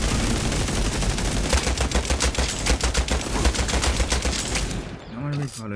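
Rapid, dense gunfire from the battle game Free Fire rattles in long bursts for several seconds, loud and continuous, before cutting off into a brief quieter stretch.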